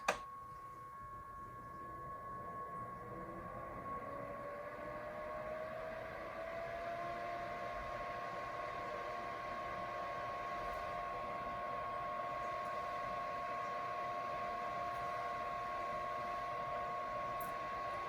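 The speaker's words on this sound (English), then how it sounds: "let you guys just hear the sound of the air conditioner" A portable air conditioner hums steadily at close range, its compressor and fan producing a continuous droning whir with a faint rising tone settling into a constant note, no talking.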